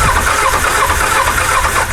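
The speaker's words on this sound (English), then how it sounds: "I mean, it cranks." A 22-year-old Kawasaki Ninja motorcycle with very low mileage cranks over. The engine churns loudly and steadily at close range.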